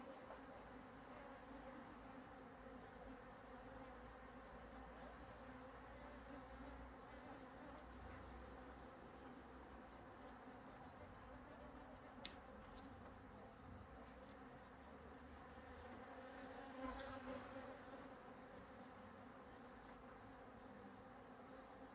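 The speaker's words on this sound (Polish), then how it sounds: "Ruchliwe dzisiaj te pszczółki, kurka wodna." Honeybees buzz steadily around an open hive during an inspection after two weeks of rain, a continuous faint drone with a few louder passes near the mic.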